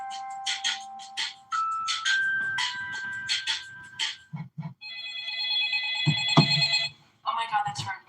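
A telephone rings in a film soundtrack, a repeated electronic ring heard between snatches of dialogue and music from the film, with people talking over it.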